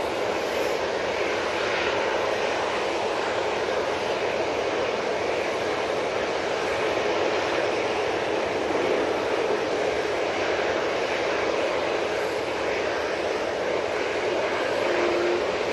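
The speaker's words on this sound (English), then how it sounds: "And this one's off to Derry, using 737-800 for this flight." A Boeing 737-800 jet departs Manchester Airport bound for Derry, its engines giving a steady, broad roar that holds evenly from start to finish at moderate distance, with no voices over it.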